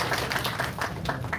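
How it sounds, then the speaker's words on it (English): Conference audience at the IIIT Bhubaneswar research conclave applauds to welcome a guest, uneven overlapping claps in a reverberant hall at moderate loudness. "Let us welcome him with a big round of applause."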